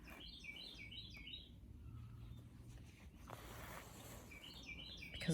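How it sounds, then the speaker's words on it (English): A bird singing outside an open door, with short bursts of bright, rapid chirping at the start and again at the end, faint and a little distant, over a quiet room hush with no talking. "the bird is singing"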